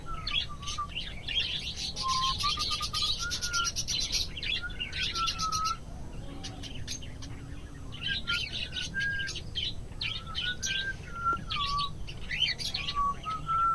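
A lutino cockatiel gives repeated bright chirps and short whistled calls, coming in clusters over a steady faint background hum, fairly close and moderately loud.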